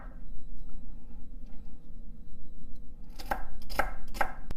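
A knife cuts through celery on a board for Filipino pancit, three crisp chops in quick succession near the end after a quieter stretch of faint kitchen noise; close, with no voices.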